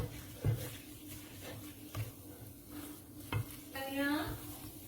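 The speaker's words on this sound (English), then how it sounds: "now I'm using the spatula, and we're gonna mix it till it forms into a ball" A spatula stirs choux pastry dough in a pan on a lowered stove, giving soft scraping strokes and dull knocks against the pan at an uneven rhythm over a faint sizzle.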